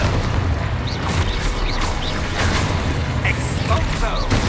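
Confringo blasting spells in the Hogwarts Legacy video game: loud, dense combat with repeated booming bursts and crackling impacts over a constant heavy rumble, with a voice shouting spell names.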